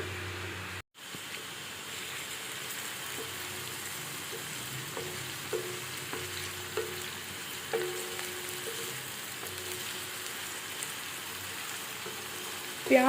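Onions sautéing in a hot pan for tawa chicken, a steady close sizzle and fry that runs throughout with small stirring clicks and scrapes, no talk over it.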